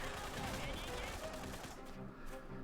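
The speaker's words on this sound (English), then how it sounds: "Good sell on that artillery." Dense, continuous volleys of artillery and gunfire from the strategy video game Tooth and Tail, a loud unbroken barrage with overlapping blasts and no clear gaps.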